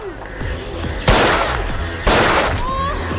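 Two loud, sharp gunshot cracks from a service revolver, about one second apart, each bursting across the range with a short ringing decay over a steady low background.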